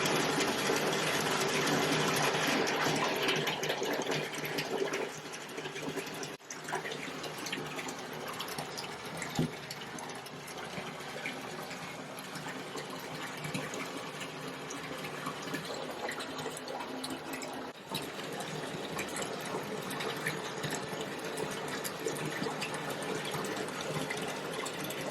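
A bathtub fills from a running tap for a bath, a constant loud rush of water that carries on unbroken for the full length with no voices.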